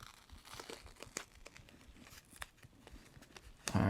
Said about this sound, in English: I want to make sure that that gets taped down.